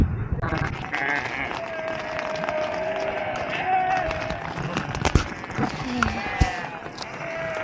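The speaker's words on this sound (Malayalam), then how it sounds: "ടെൻറ്റിന് ചുറ്റും ഒച്ച കേട്ട് ഞാൻ കണ്ണുറന്നെങ്കിൽ ആടുകൾ" Several goats bleat repeatedly around a tent nearby, overlapping calls rising and falling, with shuffling movement and a few thuds beneath.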